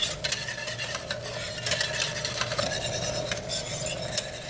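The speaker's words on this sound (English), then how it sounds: "Now I have been whisking this for about 6 minutes." A whisk beats salad dressing in a double boiler, making a rapid, steady clatter of wire against the bowl with a low hum underneath and no speech.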